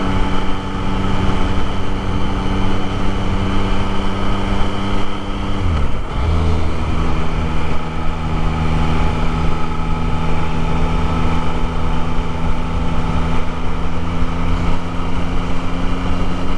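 A 2024 Yamaha MT-09 ridden gently during break-in, its engine a steady, loud drone at moderate revs with a brief pitch dip and rise as it shifts, with constant wind noise.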